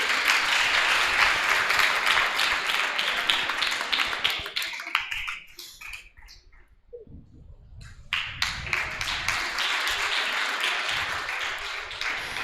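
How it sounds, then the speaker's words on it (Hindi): An audience claps at an event honouring students, loud sustained applause that thins out midway to a few scattered claps, then swells back to full clapping. "आप तालियां बजाते रहिए।"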